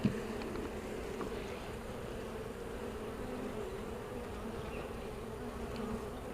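Honey bees buzz steadily around an open hive during a split, a dense, even drone with no talk over it.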